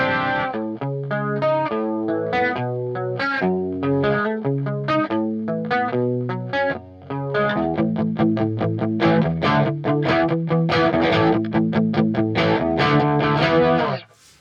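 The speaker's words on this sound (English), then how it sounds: "and then you've got chorus." Layered instrument notes run through a Roland Space Echo tape delay with its chorus setting, giving a dense, shimmering, continuously played musical passage with a brief dip partway and a sudden stop at the end.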